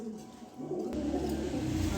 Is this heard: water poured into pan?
no